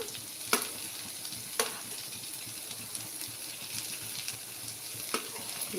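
Steady sizzling from a frying pan of beetroot, with a few sharp scrapes and clacks of stirring spaced through it.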